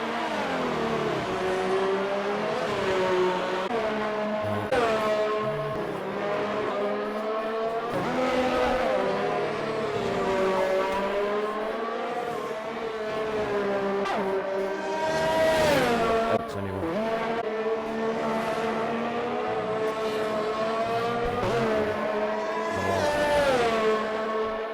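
Formula 1 race cars on a circuit in Australia, with high engine whine rising and falling loudly and continuously through gear changes as the cars accelerate and lift.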